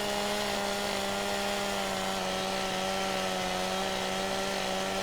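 In Farming Simulator 17, a chainsaw cuts down a small bush, running at a steady, loud, unbroken drone with a constant engine pitch and no talk over it.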